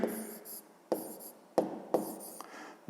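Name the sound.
writing out a multiplication by hand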